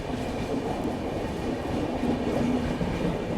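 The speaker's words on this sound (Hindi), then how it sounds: "देखो वहां जा रही है ट्रेन, दिख रही है आपको?" Indian Railways train passing near Midghat station, a steady rolling rumble with rhythmic clickety-clack of wheels on track, continuous and fairly close throughout.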